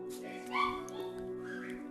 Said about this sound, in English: My dogs are being annoying.